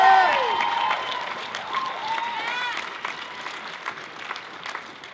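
Applause and cheering from a crowd at a university rally on campus in Sydney, a loud burst at first that thins out into scattered clapping, with voices and whistle-like tones rising above it early on.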